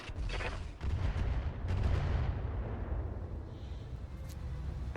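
Rapid weapon fire rattles continuously in the BattleTech mech game Roguetech, a dense, steady barrage of loud booming shots filling the whole stretch.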